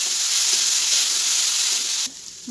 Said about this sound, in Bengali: এবার দিয়ে দিচ্ছি ভেজে রাখা বাদামের গুঁড়ো, দিয়ে দিচ্ছি নারকেল গুঁড়া। এবার আরও ভালোভাবে ভেজে নেব।